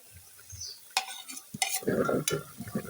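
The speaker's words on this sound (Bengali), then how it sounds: "এখন আমি যে মাছগুলা ভাজা মাছগুলা দিয়ে দিলাম" Fried eel-like kuchia fish pieces dropped into boiling water in a cooking pan, giving splashy stirring and bubbling bursts that grow louder toward the end, with no voice.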